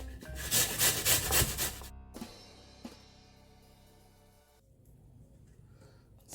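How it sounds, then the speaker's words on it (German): Raw potatoes grated on a fine kitchen grater: rapid, loud rasping strokes in the first two seconds, then quieter scraping and handling noises fading out. "Und dann reiben wir die auf so einer feinen Reibe."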